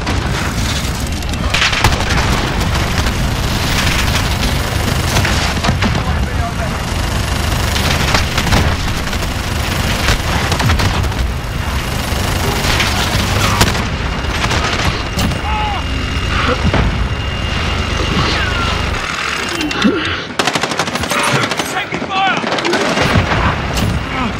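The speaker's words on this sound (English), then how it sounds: "Allied cruise missile." Call of Duty: Modern Warfare battle with a cruise missile strike amid relentless gunfire: loud continuous rifle and machine-gun bursts, booming explosions and artillery thumps throughout, with brief game voice callouts in the mix.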